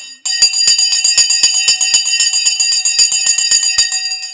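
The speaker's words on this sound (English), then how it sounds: "The bell has gone, and let's get ready to rumble." A stock market opening bell rings loudly and continuously for several seconds as a bright, rapidly repeating metallic clang, then cuts off abruptly.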